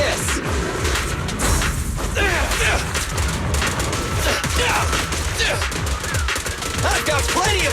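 Rapid gunfire from the video game Zenless Zone Zero rattles continuously and loudly, with dense bursts, booms and mechanical clanks layered under busy game music and character voices.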